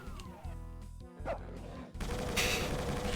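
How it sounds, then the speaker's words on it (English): In the video game DoomRPG, a character lands with a short dog-bark sound, a brief yip heard amid loud game noise, gunfire and music. "My dude literally barks when he lands."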